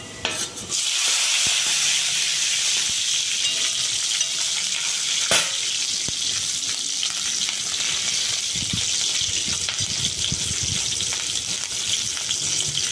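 Green chillies hit hot oil where garlic is already frying, making a loud, steady sizzle with occasional stirring clinks of a utensil against the pan, no talking.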